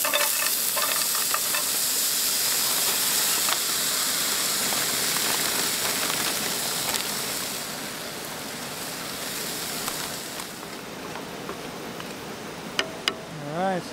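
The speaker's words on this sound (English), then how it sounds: "Alright, so she's starting to cook up now. Starting to simmer." Food sizzles and simmers steadily in a pan at a creekside campsite, a dense, continuous crackling hiss that eases slightly toward the end, with a few faint knocks near the close.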